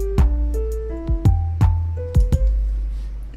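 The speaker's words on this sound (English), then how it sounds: "the grand piano was completely in your left ear" Grand piano notes in a sparse sequence, about eight struck tones with sharp attacks and ringing decays, played alone and panned fully to the left channel in FL Studio 20.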